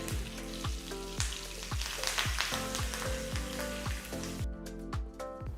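Curry leaves and asafoetida tempering in hot oil for a chutney, a loud, steady crackling sizzle over a rhythmic musical beat, the sizzle thinning out near the end.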